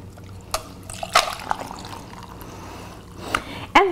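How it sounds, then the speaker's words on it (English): Strawberry flavored water poured into a glass of ice, with intermittent splashes, clinks and trickles rising in short bursts over a faint background. "I'm going to pour it out."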